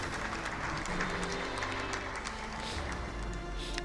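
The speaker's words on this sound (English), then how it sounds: "I think she deserves a big round of applause." Sustained applause from an audience at a keynote speech launching a citizens' assembly, steady clapping filling the room without a break for several seconds.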